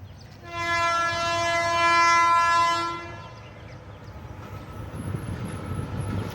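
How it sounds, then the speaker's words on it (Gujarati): A loud, sustained train horn blares for a few seconds at a railway level crossing, then the rumble of a passing train continues underneath. "જો ટ્રેન પણ તમને બતાવી આવે જ છે"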